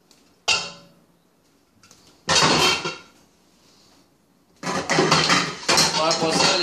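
A lid goes onto a cooking pot in a kitchen, giving a sharp metallic clank followed by two longer bursts of rattling, scraping metal, close and loud.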